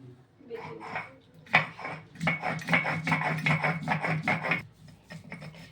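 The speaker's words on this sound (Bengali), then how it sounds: "চালটা আমি বাটবো।" Rice ground into paste by hand on a grinding stone, a close rhythmic rubbing and gritty scraping that rises into a steady back-and-forth run of strokes, with faint voice in the background.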